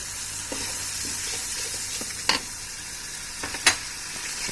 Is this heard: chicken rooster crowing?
no